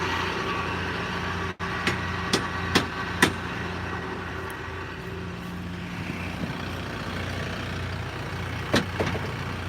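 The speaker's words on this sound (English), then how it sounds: "The old trusty hammer here and knock her tight." Several sharp metallic hammer knocks in quick succession, then a couple more later, knocking a loose part tight on an M5-111 tractor, over its steady idling engine rumble.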